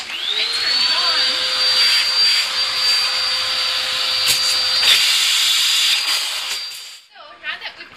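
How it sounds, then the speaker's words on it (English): A vacuum cleaner sucks leftover coffee beans out of the tubes of an espresso machine, a loud, steady whine and rush that holds for about seven seconds before cutting off into a few faint clatters. "it's now time to vacuum out the extra beans that are in the espresso tubes"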